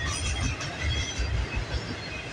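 A CN E274 freight train rolls past close by with a heavy rumble, rattling cars and clanking wheels that beat in an uneven rhythm.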